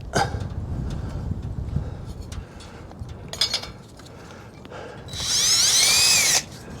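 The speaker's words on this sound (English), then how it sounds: "there's where we're gonna drill" A power drill bores into the broken pump rod of an Aermotor A702 windmill, giving one loud, sustained whining burst near the end after scattered clanks and handling knocks.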